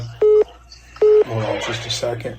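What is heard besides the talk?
cell phone beeping with incoming call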